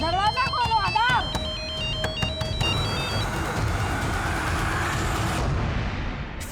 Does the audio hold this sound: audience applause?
no